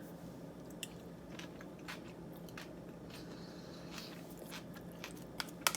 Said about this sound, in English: Just take a bite of the vegetables.